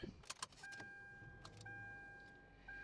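A 2016 Hyundai Elantra GL starts up from inside the cabin: a few clicks and a short crank, then a smooth, quiet idle with a faint electronic tone running steadily.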